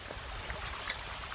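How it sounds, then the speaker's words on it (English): A small waterfall feeds a stream on the Appalachian Trail, giving a steady, even rush of flowing water throughout the brief moment, with no voices. "a little waterfall action there"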